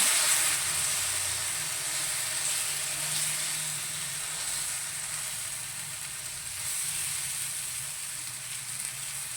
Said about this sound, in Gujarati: એમાં થોડું તેલ આપણે નાખીશું અને પછી આપણે આ બેટર છે એ એમાં એડ કરવાનું છે